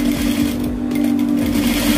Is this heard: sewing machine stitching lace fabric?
yes